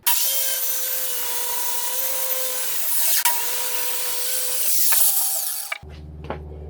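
A power saw runs steadily through particle board for a tabletop, with a high sustained whine and a brief dip midway, then cuts off into faint clunks and handling noises at the end.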